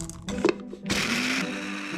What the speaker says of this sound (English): Using a coffee bean grinder, I turned the new kibble into a fine powder